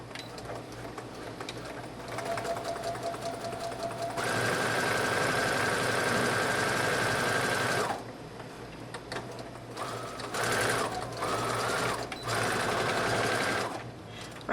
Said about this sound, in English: We're going to take it to the machine and we're going to straight stitch straight across here,